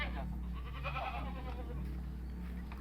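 A nanny goat that has just given birth to three kids bleats at close range, fairly quiet, with low voices talking nearby.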